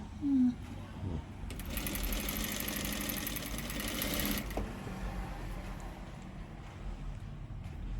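Sewing machine stitching a sleeve, a fast steady mechanical rattle that starts after a moment, runs for about three seconds, then stops, leaving a quiet room hum.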